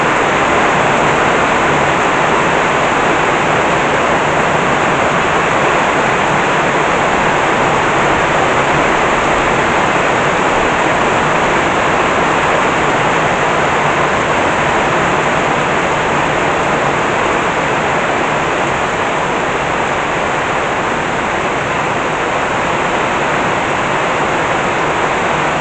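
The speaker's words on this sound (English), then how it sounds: "It actually runs downhill off the road onto our property" Rainwater pours off a road and runs downhill across farm property by rice fields into a pond during a midday rainstorm, a steady, loud, unbroken rush of flowing water with no voices.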